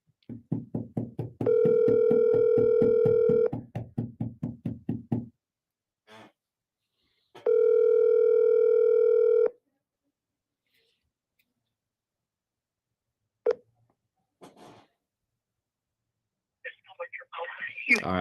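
A telephone makes a call: a rapid string of dialing pulses, a long steady ringback tone, more pulses and a second long tone, then clicks, silence and a brief faint voice at the end.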